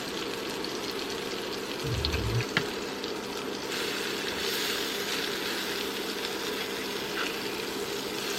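Adzuki sweet potato burgers fry in a pan during vanlife cooking, giving a steady close sizzle with a brief low thump early on and no talking.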